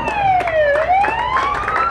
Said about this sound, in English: with the arrival of the police car with the flashing lights, there we go